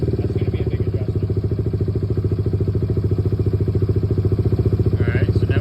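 A Kawasaki Z125 Pro motorcycle fitted with a 143cc big bore kit idles up close, its single-cylinder engine thumping in a fast, even, loud pulse with a faint voice briefly audible underneath.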